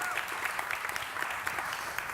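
Conference audience clapping, a modest, fairly quiet patter of scattered hands with uneven rhythm, sounding slightly distant.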